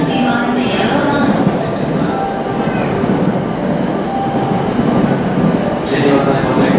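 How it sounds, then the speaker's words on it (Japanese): JR East E233-3000 series Tokaido Line local train pulling into Shinagawa station, a loud, close, continuous rumble of wheels and motors with rail clatter, under platform announcements. "The local train will arrive shortly on track 12."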